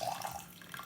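Water running from a kettle or tap into a pot to brew Taiwanese Shanlinxi high-mountain oolong tea, a brief steady close pour with a soft gurgling tone, no voices.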